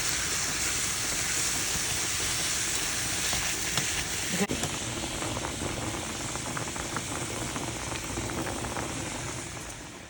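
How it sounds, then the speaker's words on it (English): Ground meat seasoned with pepper, salt and garlic powder frying in a pan for lasagna, a loud steady sizzle with a brief clank midway and light crackling after it. "Okay, so the meat is cooking."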